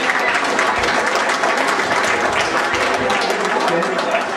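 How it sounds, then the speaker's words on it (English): Guests at a 60th birthday party applaud a family, a dense, steady burst of clapping and cheering that fills the room throughout with voices mixed in. "Big round of applause, please."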